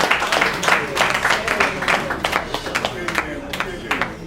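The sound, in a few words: audience applauding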